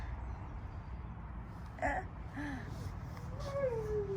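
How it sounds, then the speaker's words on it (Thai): A dog howling in the distance near a vegetable garden in Sweden, with faint, brief wavering howls that rise and fall over a low background hum. "โอ้ยเสียงหมาหอน"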